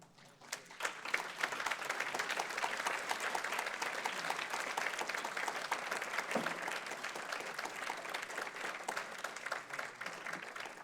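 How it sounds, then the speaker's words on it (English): An audience applauds a working group at an International Criminal Court event, steady dense clapping from many hands sustained for about ten seconds at moderate level, with a faint voice briefly audible. "thank you for applauding them"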